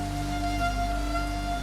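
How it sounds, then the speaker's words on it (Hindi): Steady rain falls without a break, a soft even wash of drops under a sustained tonal drone that carries through the whole stretch. "वर्षा तो थमने दीजिए।"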